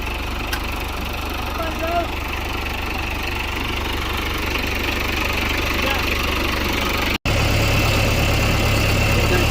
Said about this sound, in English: Can you turn the tractor down so they can hear you?